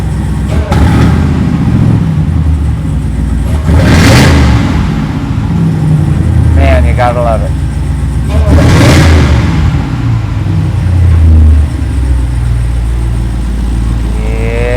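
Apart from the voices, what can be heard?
Dodge Durango Hellcat supercharged 6.2 liter Hemi engine revving, Flowmaster exhaust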